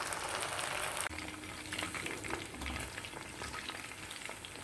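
Chicken 65 pieces fry in hot oil, a dense continuous crackling sizzle with an abrupt shift as they are turned, then light stirring scrapes over the steady bubbling.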